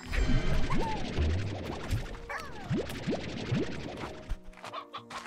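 Chickens cluck in a busy Slime Rancher 2 game soundscape, with rising chirpy calls and clattering hits over a steady background, fairly loud and dense throughout.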